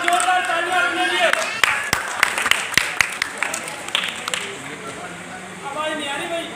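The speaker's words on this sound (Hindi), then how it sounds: "और एक बार जोरदार तालियां अपने लिए।" A crowd at a Buddhist unity cultural event at Pyare Lal Bhawan in Delhi applauds with a scattered, uneven burst of clapping, while a voice speaks over the start and end.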